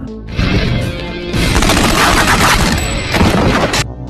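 Dense gunfire from a prison action film scene, a sustained roar of rapid shots and bursts filling the whole stretch at high loudness with no talking.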